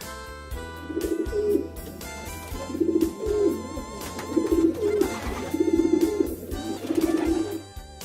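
A pigeon coos in a repeated series of soft, throaty calls across the whole stretch, set against steady background music.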